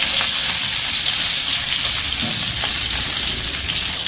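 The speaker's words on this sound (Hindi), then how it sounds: "अराउंड 4 मिनट तक मैं इसे फ्राई करती हूँ" Chicken pieces searing in a pan for Arabic maqluba: a loud, continuous hissing sizzle with a rushing, watery texture, steady from start to finish, close by and without speech.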